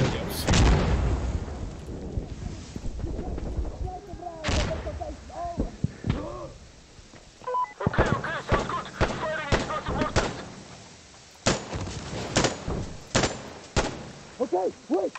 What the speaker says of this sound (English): Calling in explosive mortars.